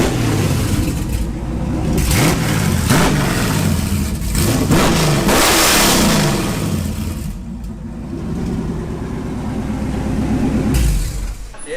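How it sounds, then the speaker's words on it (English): A loud, raw straight-piped car engine revs repeatedly, rising and falling in rough, unmuffled bursts close by, then idles and revs again. "it just sounds like a straight pipe car"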